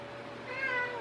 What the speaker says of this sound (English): it's my kitty cat